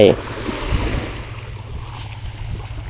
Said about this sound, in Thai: อยู่ชายทะเลนะครับ